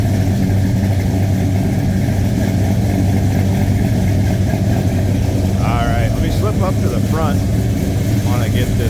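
A small-block Chevrolet V8 in a 1970 Chevrolet C10 pickup idles steadily with a deep, even rumble, recorded close up, while some faint squeaky noises come through near the end.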